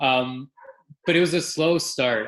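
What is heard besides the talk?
dogs barking in the background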